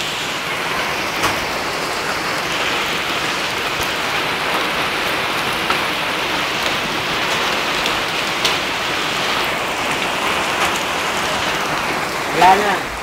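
Hail falls steadily in Rodriguez, Rizal as a dense, continuous hiss of ice pelting surfaces nearby, with a brief voice near the end.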